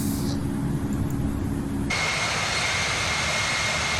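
An Avianca Airbus A320 cruising in Infinite Flight over Quito produces a continuous, even jet engine roar that holds steady throughout, shifting tone partway through with a thin high whine added.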